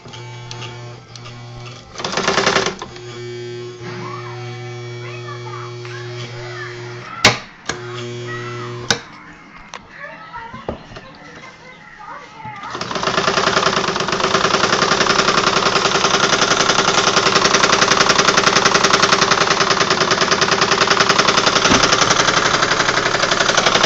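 Universal sewing machine running, starting with sporadic clicks and short bursts before a loud, steady mechanical whir with rapid rhythmic chatter over the last half, no speech.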